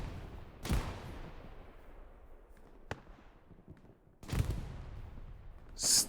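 Grenade blasts and gunfire in Hell Let Loose, an 18-versus-18 battle at Carentan: a loud explosion near the start, a sharp single shot, then a second heavy blast followed by another burst, over a constant rumbling battlefield bed.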